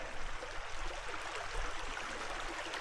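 Rainwater pours out of a drain in a steady, broadband rush of flowing water, close and continuous with no voices.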